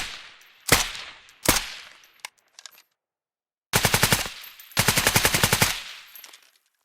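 A VSS rifle fires in the Squad video game: two single suppressed shots with short echoing tails, a few faint clicks, then two rapid full-auto bursts, close and fairly loud, with no talking.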